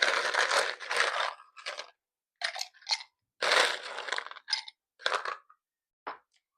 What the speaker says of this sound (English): in this cocktail, we are going to put ice in our rocks glass.